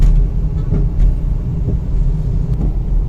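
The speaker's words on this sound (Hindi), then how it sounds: "देखें गाड़ी में बहुत ज़्यादा आवाज़ है सस्पेंशन में।" A high-mileage Toyota Corolla on a test drive over small bumps gives off a steady cabin road rumble with several dull knocks and thumps from the suspension, heard from inside the car without talk.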